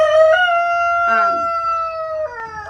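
A limping rooster crows nearby in a goat pen, loud drawn-out calls with a harsh wavering break in the middle, over quiet background noise.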